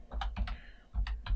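Quick keystrokes on a computer keyboard, a short run of soft clicks typed close up at low volume with no talk.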